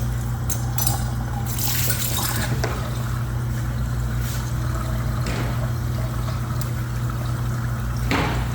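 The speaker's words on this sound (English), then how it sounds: "let it really suck that water in" Water is sucked and gurgled through trumpet slides during cleaning, a continuous watery slurping and trickling over a steady low hum, with a few splashy surges along the way.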